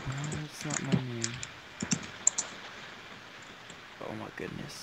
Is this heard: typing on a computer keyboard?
yes